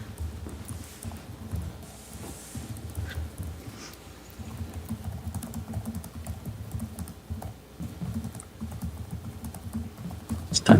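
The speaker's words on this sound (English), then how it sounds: "Just typing up my report." Keys clatter on a computer keyboard during a Norwood committee meeting, an irregular run of light taps and bursts that continues throughout, close and fairly soft, with room noise beneath and no talk.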